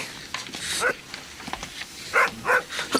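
A big dog barks in a radio drama sound effect, giving several separate barks of moderate loudness with short gaps between them, the last pair stronger.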